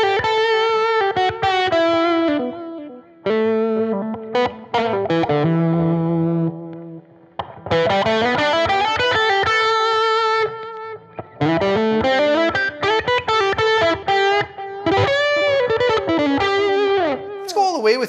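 Electric guitar played through a Foppstar Gentleman Deluxe pedal with attenuation at half gives bursts of bright, slightly driven chords and melodic lines separated by short pauses, loud and close.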